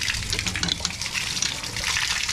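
Water gushes steadily from a borrowed farm water pump through a pipe, a loud continuous splashing rush without pause.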